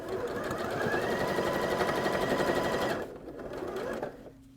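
A sewing machine runs fast and close along the piping of an outdoor pillow, a dense mechanical whir that slows and stops, then gives one brief final burst.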